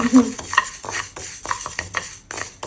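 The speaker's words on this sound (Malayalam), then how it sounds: "ഉലുവ വറക്കണം" Fenugreek seeds dry-roast in a pan while a utensil stirs them, giving repeated scraping and clinking strokes at close range with a faint crackle underneath, and no speech.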